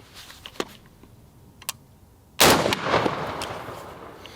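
A single loud gunshot strikes budget Shot Stop body armor on a test range, preceded by a couple of faint ticks and followed by a rumbling echo that decays slowly.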